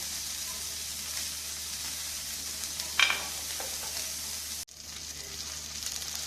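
A beef burger patty fries in butter on one side after being flipped, with a steady close sizzle, a short utensil clink midway and a brief break in the sound.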